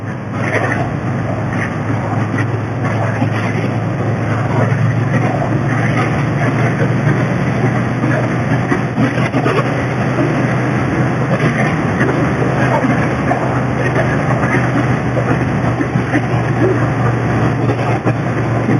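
Triumph Bonneville T120 motorcycle exhaust on a road test ride, a steady throaty engine drone mixed with wind rush, constant and fairly loud throughout.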